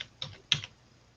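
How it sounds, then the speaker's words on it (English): A couple of close keystrokes clack on a computer keyboard, two sharp taps about a third of a second apart followed by quiet. "There's my keyboard stopped working yet again."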